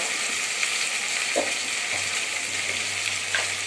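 Ingredients for a biryani, including ginger-garlic paste, sauté in a pan with a steady close sizzle and a few soft stirring scrapes, no voices.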